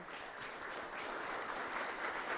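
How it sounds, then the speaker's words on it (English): Audience applause at the opening ceremony of the 55th CBU Annual General Assembly, a steady wash of many hands clapping at moderate level throughout, with no talk over it. "Let's give these legends a round of applause."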